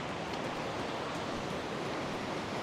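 Rushing water makes a steady, broad hiss, soft and distant, constant throughout with no pauses or voices.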